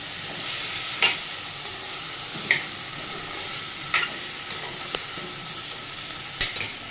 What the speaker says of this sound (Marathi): यामध्ये आपण ह्या शेंगा घालून घेऊया आणि चांगले मिक्स करून घेऊ